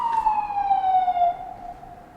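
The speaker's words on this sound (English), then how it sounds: "Sirens." A single emergency siren tone slides slowly downward and fades, heard on its own at moderate loudness with no talking.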